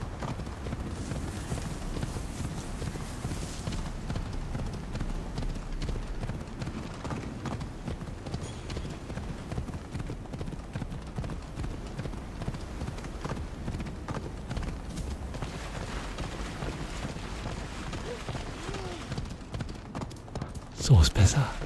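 Steady clip-clopping horse hoofbeats in Assassin's Creed Odyssey run throughout at a brisk trotting rhythm, with game music and a person talking over them.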